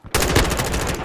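Rapid automatic gunfire from weapons in Modern Warfare II on PS5, during a Domination match on Mercado Las Almas. It bursts in suddenly after a brief silence and rattles on loud and close in a steady stream of shots.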